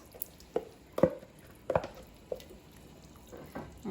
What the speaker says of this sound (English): And just stir it around.